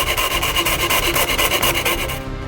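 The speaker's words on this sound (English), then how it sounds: "We cut it out with the jigsaw from thin fiberboard." A jigsaw cuts a stencil out of thin fiberboard with a fast, steady rasping buzz that pulses rhythmically, loud and close, easing off at the end with no voices.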